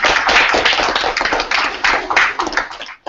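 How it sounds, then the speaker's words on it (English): A seminar audience applauds at the close of a university discussion with a guest scientist, crisp close-up claps forming a loud, uneven patter that stops abruptly. "So round of applause, please."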